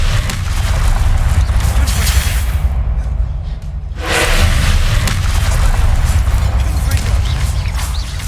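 Blasting-spell explosions from the Hogwarts Legacy video game, a loud continuous barrage of booming blasts and whooshes that briefly drops out near the middle and then resumes at full intensity.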